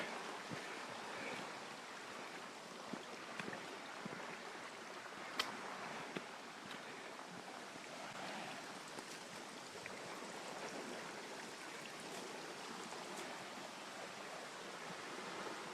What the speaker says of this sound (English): Some really vigorous water down there.